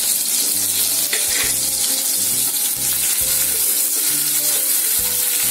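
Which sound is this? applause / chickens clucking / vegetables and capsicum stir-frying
vegetables and capsicum stir-frying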